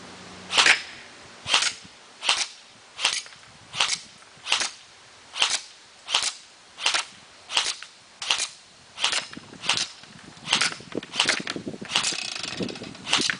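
Airsoft gun firing at an electric fan: about a dozen sharp, loud shots at a steady pace of roughly one per second, close by, turning into quicker irregular clatter near the end.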